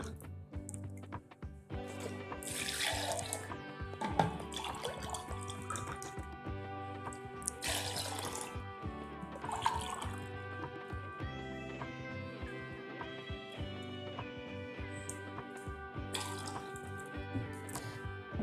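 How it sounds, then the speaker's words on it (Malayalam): Cold water pours in repeated bursts into a blender jar over a steady tonal music bed, splashing and trickling several times. "നമുക്കൊരു 3 ഗ്ലാസ് വെള്ളം ഒഴിച്ച് കൊടുക്കാം"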